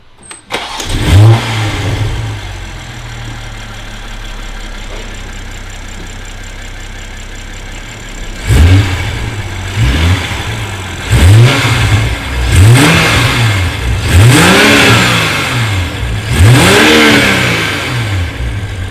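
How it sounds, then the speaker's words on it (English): A car engine starts, idles steadily, then revs up in a series of sharp bursts, the exhaust note rising and falling loudly and close by. "start it up for us, and maybe give it a rev, that way you guys can also listen to the exhaust"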